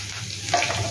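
Chopped garlic hits hot oil already spiced with garam masala for a Bengali shahi cholar dal, giving a steady close sizzle that swells briefly partway through, with no talking.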